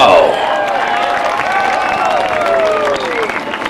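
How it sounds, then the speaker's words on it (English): Crowd at Beech Ridge Motor Speedway applauding a race winner at a NASCAR Modified Tour night, with a broad crowd wash under a public-address announcer talking over it. "Round of applause for the number"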